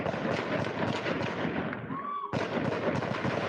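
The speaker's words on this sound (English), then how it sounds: "More than 40 gunshots can be heard." Rapid gunfire from a played video recording, a dense crackling barrage of many shots that briefly drops out and resumes, heard through a speaker at moderate level.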